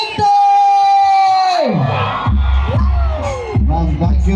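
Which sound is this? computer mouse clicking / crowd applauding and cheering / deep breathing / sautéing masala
crowd applauding and cheering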